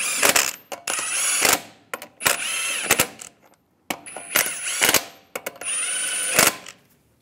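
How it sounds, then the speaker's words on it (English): Wheel lug nuts on a Chevrolet Silverado 1500 being run down with a power tool, sounding as several loud, close buzzing whirs broken by short pauses and sharp clicks. "Now I'm going to torque the lug nuts in a cross pattern to 140 foot-pounds."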